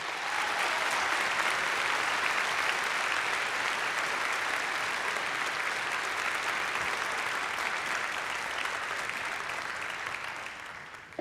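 Sustained audience applause fills a commencement ceremony hall, a dense, steady wash of many hands clapping that holds loud throughout and tapers slightly near the end.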